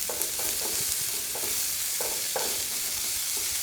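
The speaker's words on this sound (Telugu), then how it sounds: "ఈ ఉల్లిపాయలు లైట్గా పింక్ కలర్ అయ్యేంత వరకు ఫ్రై చేసుకోండి" Thinly chopped onions frying in oil with peanuts, sesame and dry coconut, a steady close sizzle broken by repeated scraping stirs at an irregular rhythm, with no voices.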